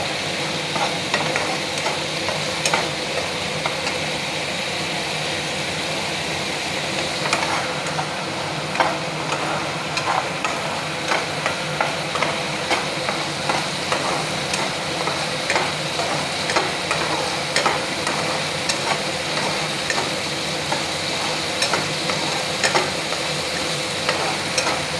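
Climbing perch fish frying with skunkvine leaves in a pan, a steady bright sizzle with faint stirring scrapes and ticks, continuous and close throughout with no talk.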